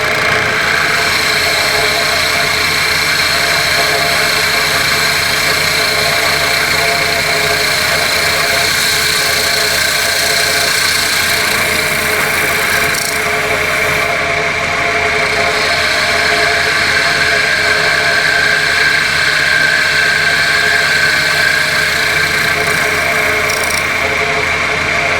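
A wood lathe spins at 1200 RPM turning a sycamore piece, giving a loud, steady motor whine and hum that holds constant throughout, with faint tool contact mixed into the drone.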